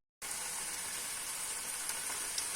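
Green curry ingredients fry in a pan on the base of the pan, giving a steady, loud, close sizzle that starts abruptly and holds evenly throughout, with a few faint crackles and no talking.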